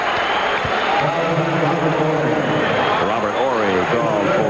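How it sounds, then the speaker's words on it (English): An NBA basketball arena crowd swells into a loud, sustained roar of cheering, with a commentator talking over the noise. "the reason the crowd got pretty loud that time"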